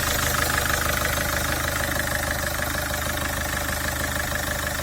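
A Citroen Jumpy van's engine runs steadily after a fuel filter change, a loud, even mechanical drone with a constant low hum and slight knocking texture, heard close up and without talk.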